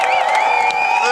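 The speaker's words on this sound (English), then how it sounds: "Fucking round of applause for all of you for coming out here today." A crowd gathered outdoors at a weed-themed gathering cheers and whoops loudly, with voices blending into a steady roar of applause throughout the short burst.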